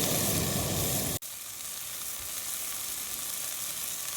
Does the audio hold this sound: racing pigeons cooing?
no